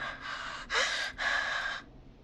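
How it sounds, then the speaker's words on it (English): Heavy, ragged breathing from a caller in the horror game Killer Frequency, heard as three loud breathy bursts with a sharp gasp in the middle, close to the mic and then fading out. "Oh, it's heavy breathing again."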